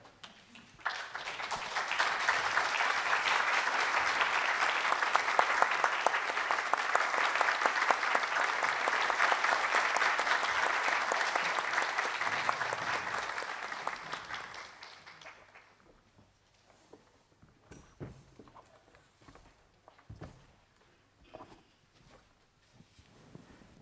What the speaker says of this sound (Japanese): それでは皆様、どうぞ大きな拍手でお迎えください。